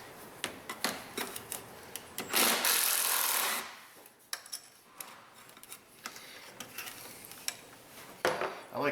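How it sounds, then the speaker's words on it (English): A hand ratchet works loose self-tapping screws on a Ford throttle body, giving quick, close, irregular clicks and ticks, with a brief louder rasping burst partway through. "Let's get a ratchet to get those bottom two out."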